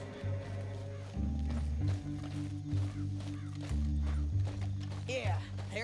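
Horse hooves clopping at a walk in the Western open-world game Red Dead Redemption 2, steady and fairly close, mixed under a low droning musical score and some dialogue between riders.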